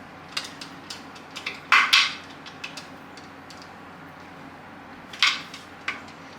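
Metal lid of a pressure canner being closed and tightened while dry canning ground beef, giving sparse light clinks and scrapes with a few sharper metallic clacks near the middle and end, close up and alone.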